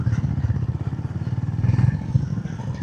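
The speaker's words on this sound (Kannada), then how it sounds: "ಟೂರಿಂಗ್ ಬೈಕ್ ಇದು." A touring motorcycle climbs a rough hill road, its mid-pitched engine throbbing steadily with uneven pulses and some clatter, heard close throughout.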